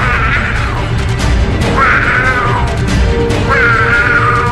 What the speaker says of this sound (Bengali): কালো বিড়ালটা ল্যাজ তুলে ক্রমাগত ডাকতে লাগলো